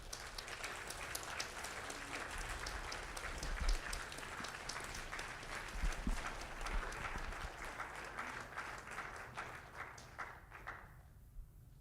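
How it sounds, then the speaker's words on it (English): A crowd applauds steadily for the graduating class of 2025 at a commencement ceremony, dense clapping sustained throughout and fading out near the end. "Give them a round of applause."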